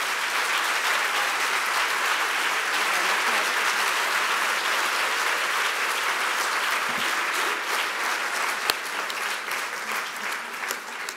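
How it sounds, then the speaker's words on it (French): An audience at a village awards event applauds, a dense and steady clapping from a crowd that holds strongly throughout with a few sharper individual claps standing out. "On peut les applaudir"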